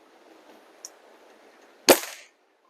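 An FWB 124 air rifle with a newly installed tune kit fires once, a single sharp crack-thump that decays quickly, preceded by a small click against quiet background hiss.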